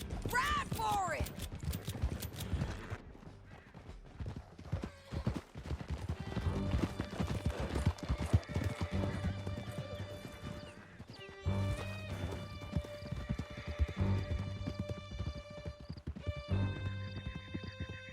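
Horses in Red Dead Redemption 2 gallop hard through a canyon, with pounding hoofbeats and sharp neighs and whinnies up close, mixed with scattered gunfire and crashes while voices shout over the chase.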